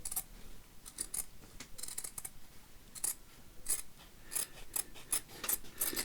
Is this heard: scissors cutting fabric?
yes